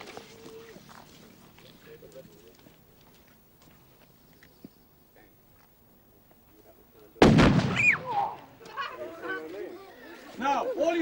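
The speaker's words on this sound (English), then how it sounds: "That's going to make a big bang." A small explosive charge goes off in a 1971 school demonstration for children: one sudden loud bang after a quiet stretch, with a rumbling tail and crowd chatter. A voice is heard before it.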